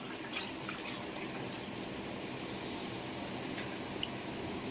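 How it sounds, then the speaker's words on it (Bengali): Hot water poured into chicken curry in a pot, a steady rushing, splashing stream heard close up and unbroken for a few seconds without any talk. "এরপর দিয়ে দেবো কিছুটা গরম জল।"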